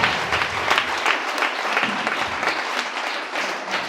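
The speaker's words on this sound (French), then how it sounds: "Acclame le Seigneur Jésus." A church congregation applauds: dense, steady clapping from many hands that fills the whole stretch, loud and close, with no break.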